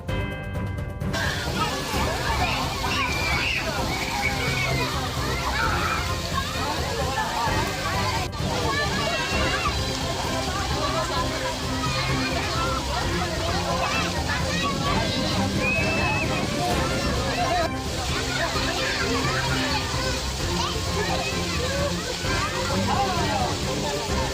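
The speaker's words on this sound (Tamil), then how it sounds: "வெப்பத்தின் தாக்கத்தை தணிக்க சுற்றுலா பயணிகள் காத்திருந்து அருவியில் குளித்து செல்கின்றனர்" Tourists bathe at Kumbakkarai waterfall near Periyakulam in Theni, where falling water roars and splashes steadily. A crowd's voices mix into the continuous loud rush.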